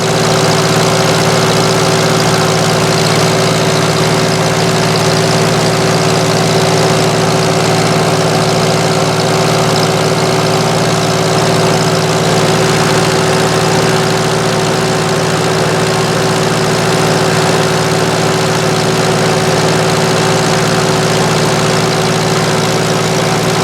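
The diesel engine of a Case CK 530 backhoe idles in a steady, loud, unbroken drone with a low hum and a faint knocking vibration throughout, and no one speaks.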